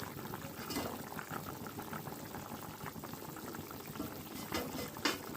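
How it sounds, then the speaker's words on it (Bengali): Katla fish curry gravy boiling steadily in a pan, a dense, continuous bubbling and simmering that stays close and even throughout, with a few sharper pops near the end. "দেখো বন্ধুরা, ঝোলটা ফুটে উঠেছে আর এতে এবার আমি মাছগুলো অ্যাড করে দেব।"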